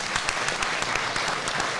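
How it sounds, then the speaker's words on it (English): Steady crowd applause at a live event, dense continuous clapping throughout the short stretch, even and fairly loud with no talk over it. "Another boy. round of applause."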